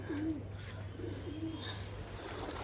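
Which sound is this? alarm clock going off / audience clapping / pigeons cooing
pigeons cooing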